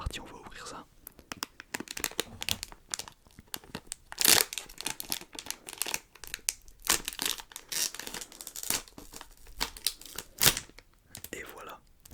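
Close, crisp crinkling and tearing of a plastic lollipop wrapper in irregular bursts, with soft whispered speech in French woven between the rustles.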